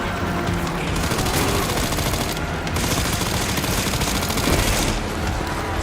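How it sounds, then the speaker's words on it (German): Sustained automatic gunfire in Resident Evil 9 as a barrel is shot at, a dense, continuous fusillade filling the scene with brief lulls, loud and close throughout. "Da schießen wir auf das Fassel drauf."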